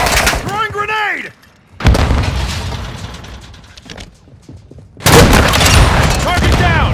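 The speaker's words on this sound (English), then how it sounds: "Throwing grenade!" A grenade goes off in Call of Duty: Modern Warfare II with a loud booming blast, followed by rumbling gunfire and a second heavy burst of explosive noise; game voice callouts occur briefly.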